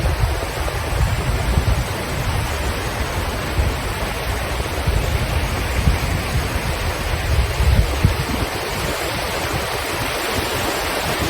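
Sea waves wash onto a palm-lined beach on Koh Kood island in Thailand, giving a loud, steady broadband rush of surf that churns continuously without pause and has no talk over it.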